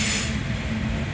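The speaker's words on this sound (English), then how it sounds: "The wheel screeching pretty good." A CSX freight train rumbles close by at a street crossing in downtown McKeesport, with a high, sustained metallic screech from the wheels riding over the low grinding noise.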